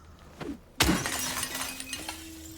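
A sudden sharp crash of breaking glass, followed by scattered tinkling shards and a faint lingering tone, fairly close and alone.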